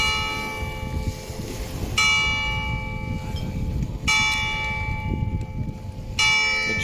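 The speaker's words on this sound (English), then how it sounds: "Church bell." A church bell rings in repeated strokes about every two seconds, each clear metallic peal ringing out and decaying over a steady background hum.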